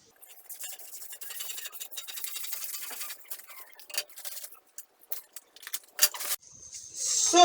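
Scissors snip and scrape through gown fabric along a marked pattern line for a side-slit tube gown, with close, irregular crisp cutting strokes in bursts and brief pauses.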